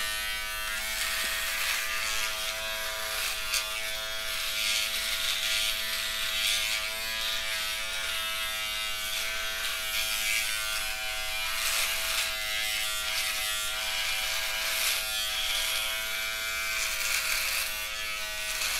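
A Keimi rechargeable electric shaver runs steadily and close, a continuous high buzzing hum with a bright whine that holds level throughout, with no talk over it.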